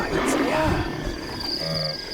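A lion roars on a safari, a deep rumbling call heard at moderate distance, mixed with people talking nearby.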